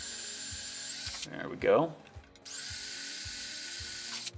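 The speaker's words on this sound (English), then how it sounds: "we'll go ahead and drill it through" Power drill boring through plastic during a Honda CR250R dirt bike restoration, a steady motor whine with a brief grinding bite as the bit breaks through, then spinning freely again; someone speaks briefly in the middle.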